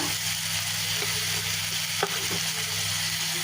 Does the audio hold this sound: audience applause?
no